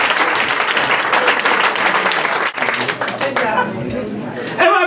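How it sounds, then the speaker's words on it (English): Audience applause at a comedy show, a dense wash of many clapping hands with crowd chatter mixed in, loud and sustained, thinning toward the end. "please give a big round of applause for Russell Hamilton!"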